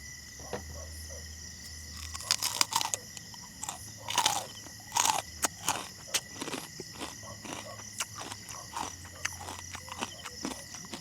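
Crisp chicharon pork cracklings are bitten and crunched up close at a solo campsite in Talisay, Batangas, loud irregular crunches over steady insect chirping in the background.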